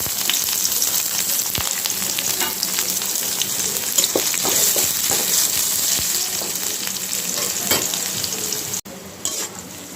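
Onions and green chilies sizzle steadily in a hot pan while cooking lotus stems with prawns, a dense continuous crackle with occasional stirring scrapes and small pops, ending with a sudden drop in intensity.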